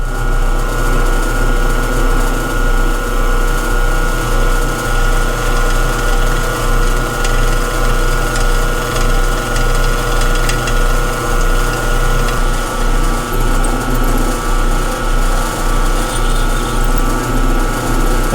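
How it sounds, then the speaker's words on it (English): A drill with a pilot bit bores into the metal tank of an antique tractor radiator, running as a loud, continuous mechanical whir with a regular pulsing rhythm from start to finish. "So we'll start with a pilot bit."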